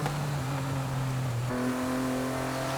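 A racecar engine in Forza Horizon 5 hums steadily at cruising speed, a close, constant drone that steps up in pitch as the car shifts, with no talk over it.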